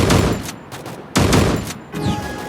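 A shotgun fires new rounds in the video game Free Fire: three loud, close, booming blasts, each with a short ringing tail, spaced roughly a second apart.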